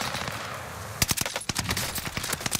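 An MP40 submachine gun in the Warzone video game fires in rapid, loud, close bursts of automatic gunfire. The shots crack in a tight, fast string over busy game background noise.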